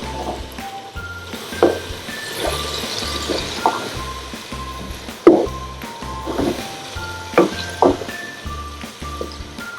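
Green peas are stirred into well-cooked masala in a frying pan, giving a steady sizzle broken by clanks and scrapes of stirring, with a low, rhythmic music bed underneath and no talking.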